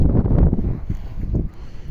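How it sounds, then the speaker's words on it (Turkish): Gusty wind buffets the microphone with a low, rumbling roar that swells and eases over a couple of seconds. "Rüzgar esiyor elimi titretmemeye çalışıyorum"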